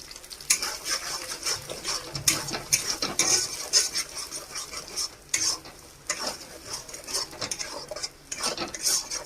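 Egg frying in a wok while a metal spatula stirs and scrapes it, with repeated clinks and scrapes over a soft sizzle, close and fairly loud, for a home-style mixed fried rice.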